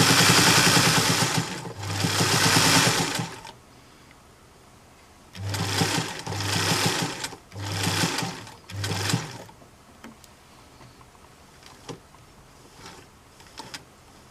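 A sewing machine stitching around the edges of an apron in several bursts, a loud rapid mechanical whir that starts and stops about six times, with short pauses and light handling noise between runs.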